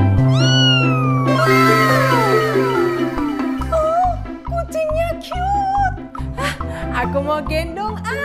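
A cartoon cat meows loudly and repeatedly right after hatching from a large egg in the Livetopia video game, the high, bending cries layered over game music with no talk.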